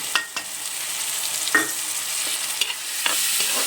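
Garlic ginger paste frying with browned onions in a hot pan, a continuous sizzle broken by several scraping stirs of a spoon, close and fairly loud with no voices.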